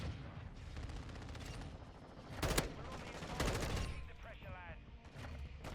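Gunfire in the video game Modern Warfare 2, two sharp bursts of shots ringing out behind the player over a constant din of in-game noise.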